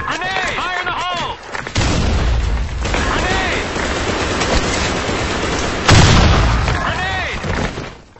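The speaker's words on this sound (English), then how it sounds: "Grenade! Fire in the hole!" A grenade goes off in a first-person shooter, one loud booming blast mixed with gunfire and game effects, while voices call out over the action.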